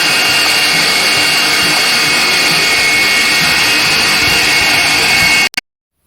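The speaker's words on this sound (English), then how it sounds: "I ground the opposite surface parallel to it and to dimension" A surface grinder works a steel ER25 square collet block with a loud, steady, high-pitched whine and hiss that runs unbroken, then cuts off abruptly near the end.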